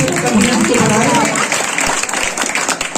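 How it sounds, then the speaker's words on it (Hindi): An audience claps loudly for a speech about Savitribai Phule, dense sustained applause throughout with a speaking voice carrying over it. "एक बार जोरदार ताली के साथ फिर से बनाए।"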